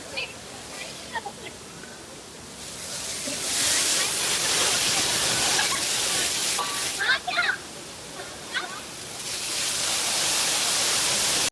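Rushing monsoon waterfall at Kalasa, a broad steady roar of falling water that swells louder midway and holds, with voices talking over it at times.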